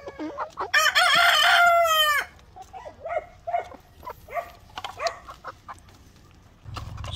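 An asil rooster gives one loud, close crow, surrounded by assorted short clucks and squawks from several chickens, with a low rumble creeping in at the end.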